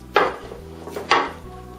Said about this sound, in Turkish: Muzları soyarak ve doğrayarak devam ediyoruz.